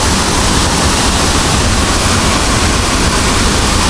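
A dense, steady roar of the Dhangar waterfall near Badlapur, swollen by heavy monsoon rain, fills the scene with unbroken broadband rushing water, loud and close, with no voices.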